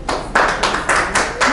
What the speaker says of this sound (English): come on, let's give them a round of applause